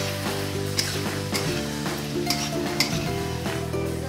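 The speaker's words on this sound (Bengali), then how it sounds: "ভাজা আলুগুলো দিয়ে দিচ্ছি, দিয়ে ভালো করে কষিয়ে নেবো।" Fried potatoes stirred into a spicy masala in oil with green chillies, a steady loud sizzle under scraping and clinking strokes of a spoon against the pan, with no talking.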